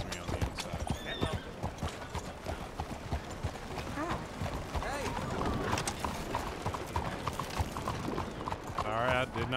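Horse hooves clip-clop steadily and close in Red Dead Redemption 2, a brisk rhythmic trot over game ambience with voices mixed in, and a whinny near the end.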